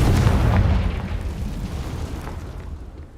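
A Confringo fire spell explodes in Hogwarts Legacy, a loud, close boom that rumbles and slowly fades over a few seconds with no talk.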